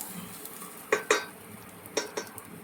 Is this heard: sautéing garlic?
yes